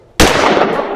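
A single sharp gunshot blast, loud and close, fired at a man's head, bursting suddenly from near silence and leaving a long ringing, reverberant decay.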